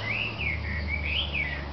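Birds chirp and warble among trees beside the winding Hana Highway, a steady, moderately faint twittering song running continuously with no talk.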